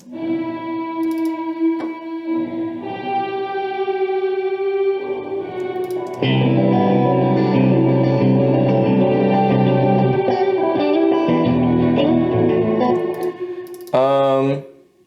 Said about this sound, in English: I set the reverb super high to sound muddy because I wanted that.